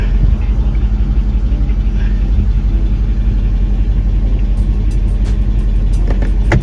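Engine of a Mercedes ML55 AMG with a 722.6 automatic gearbox running steadily at idle while the selector moves between gears, a continuous low rumble with a few faint clicks near the end.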